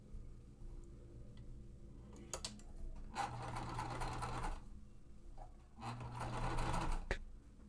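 A sewing machine stitches cotton fabric for a quilt in two quiet bursts of rapid mechanical whirring and ticking, separated by soft clicks and pauses, nearby with no talking.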